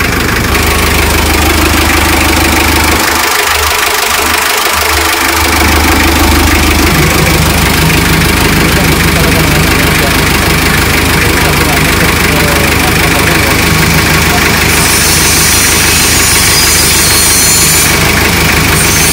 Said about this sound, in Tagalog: Yan, kakandar lang po pero yung makina niya pinong-pino.